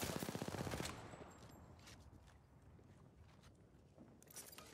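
A rapid burst of automatic gunfire in Apex Legends rattles loudly for under a second, then gives way to quieter in-game noise with a few faint scattered clicks and taps.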